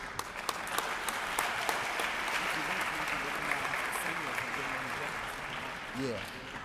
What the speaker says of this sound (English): One more round of applause for these good-looking brothers up here.